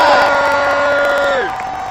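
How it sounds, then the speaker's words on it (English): Australian fans gathered to watch a Women's World Cup match let out a loud, close burst of cheering and whooping for the Matildas that holds briefly and then drops away. "Big cheer for the Matildas"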